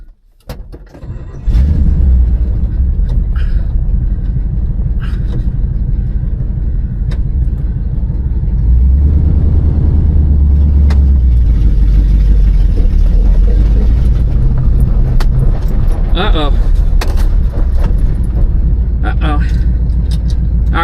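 A 1986 GMC truck's engine rumbles loudly and steadily while running in 4-wheel low, a close, heavy drone that builds after a quiet start, with voices talking over it.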